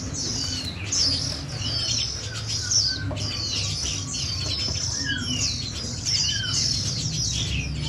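Young caged white-eye songbirds chirp repeatedly, with rapid high tweets and short calls overlapping at close range over a low background rumble, and no voices.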